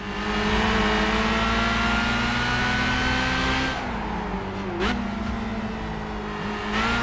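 A race car engine in Gran Turismo 5 drones steadily at high revs, a loud sustained tone that dips briefly with a quick gear change before climbing again.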